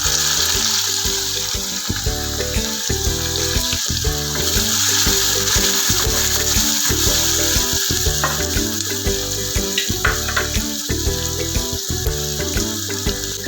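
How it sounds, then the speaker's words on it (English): Chopped onions drop into a pan of frying garlic and asafoetida for whole masoor dal, giving a loud, steady sizzle with faint stirring clicks throughout. "We don't want to burn our garlic, so let's quickly add onions."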